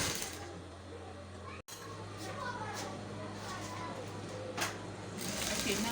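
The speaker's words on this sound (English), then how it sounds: "now I'm going to sew my crinoline to it." A sewing machine stitches crinoline onto fabric, running in a steady continuous whir with a brief stop near the start, close and moderately quiet, with faint voice-like sounds mixed in.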